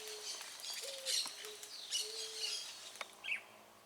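Outdoors, a chalk-browed mockingbird sings quiet, scattered whistles and short chirps with pauses between phrases, heard alone without talk.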